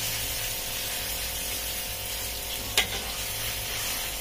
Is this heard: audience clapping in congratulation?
no